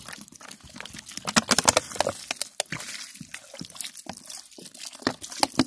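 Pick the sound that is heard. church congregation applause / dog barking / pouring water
pouring water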